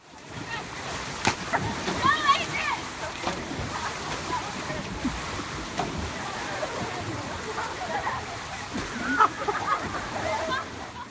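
Water polo players flop into a pool fully clothed, sending repeated splashes and sloshing water over a steady watery wash, with voices and crowd-like chatter mixed throughout.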